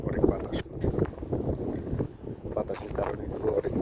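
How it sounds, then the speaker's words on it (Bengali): Strong, cold wind blows outdoors in snowy South Korea, buffeting the microphone in uneven, rumbling gusts that rise and fall throughout. "সাথে অনেক বাতাস।"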